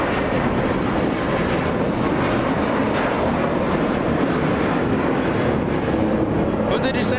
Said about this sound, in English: Cargo jet flying in from Vancouver